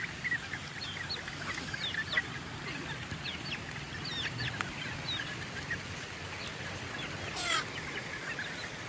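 Chicks peep and chirp in scattered, high calls over a constant wash of rain.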